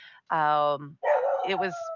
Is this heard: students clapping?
no